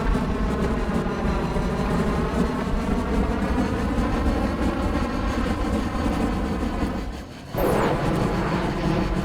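A Y-wing VTOL aircraft lifts off in the Trailmakers video game, its engines giving a loud, steady drone that dips briefly and then surges back as thrust builds.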